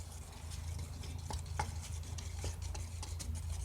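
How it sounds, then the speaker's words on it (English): A toothpaste slime mixture is stirred in a bowl, with faint soft sticky scrapes and light taps in a quiet, close space and no talking. "we're going to stir it. We're just going to keep stirring it."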